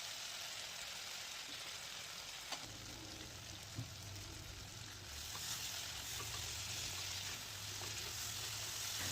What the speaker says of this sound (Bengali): আর গ্রেভি টেস্টি করার জন্য মাছের মশলাটাকে কিন্তু খুব ভালো করে কষিয়ে নিতে হবে।